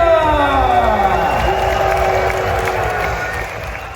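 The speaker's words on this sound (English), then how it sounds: "Make some noise, get on your feet, and give it up for the one, the only, Michael J. Saylor!" A large crowd at a Bitcoin conference in Prague applauds and cheers loudly and steadily, with rising voices mixed in, then slowly fades a little toward the end.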